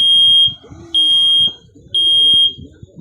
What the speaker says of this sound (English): Press to test. This is only a test. The alarm will sound. It's going to be loud.